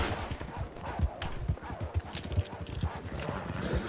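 A horse in the RedM western game gallops in a quick, regular clip-clop of hoofbeats that carries on steadily throughout, with a faint voice in the background.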